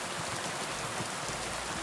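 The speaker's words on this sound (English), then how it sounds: "Yeah, this is one hell of a storm." Heavy rain from a storm in a video game pours down as a steady, dense hiss of drops with no talking.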